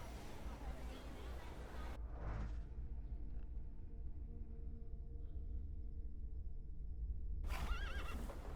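A horse in the video game The Thaumaturge gives a short, loud neigh at the start, followed by quiet ambience and a second whinny near the end.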